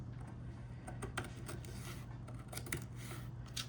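Scissors snip steadily through the cardboard cover of a Little Golden Book, cutting it down the middle for a Christmas junk journal, giving a run of close, rough crunching cuts with no talk.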